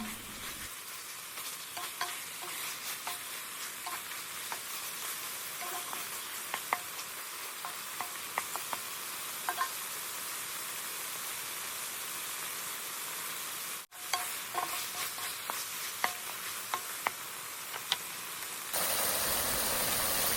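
Large shrimp stir-frying in a hot pan for Thai mixed pad kra pao, a steady close sizzle with scattered crackles and spatula scrapes and an engine-like hum underneath, and no one talking.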